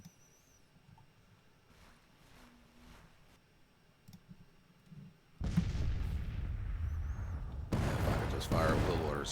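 Gunfire volleys erupt in an American Civil War battle game, two loud crashing bursts of massed musket fire following quieter distant shots and rumble, with someone talking during the quieter opening.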